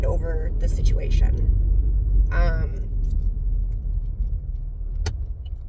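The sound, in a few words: car driving, heard from inside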